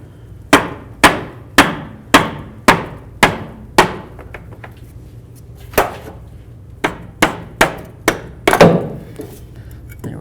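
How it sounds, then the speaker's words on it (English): A rubber mallet strikes a drive shaft to free it from the transfer case of a Chevy S-10, about a dozen sharp, evenly spaced thunks at close range, with a short pause partway through before the blows resume. "I'm going to use a rubber mallet, that way there I don't cause any damage"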